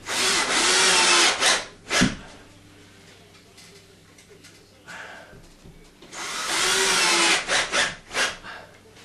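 A power drill drives screws into wood backing set between framing for eyeball can light fixtures, two loud whirring bursts about six seconds apart with quieter handling noise between.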